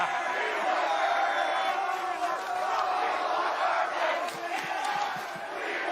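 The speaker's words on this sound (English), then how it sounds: "they cheering for you, Coach" A large college football crowd in Lincoln, Nebraska roars and cheers continuously, voices blending into a loud sustained yell with occasional shouts rising above it.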